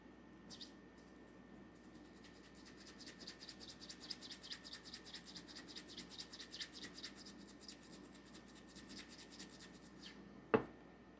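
Tapered bristled pipe cleaners dipped in denatured alcohol scrub through the airway of a 1953 Dunhill pipe, a quiet close-up series of rapid scratchy strokes, ending with one sharp knock.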